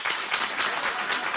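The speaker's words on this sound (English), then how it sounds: "Clap if you think it's unprofessional." A talk-show studio audience claps in a brief, dense burst of applause that holds steady for its whole length, with no speech.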